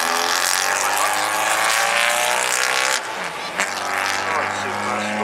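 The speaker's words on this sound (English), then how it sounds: "Strange noises coming out of that car at stage" A Volkswagen race car at the 2012 VW Showdown drag meet at Santa Pod roars loudly and steadily, its engine note shifting and stumbling briefly midway with odd uneven sounds at the start line, while a commentator talks over it.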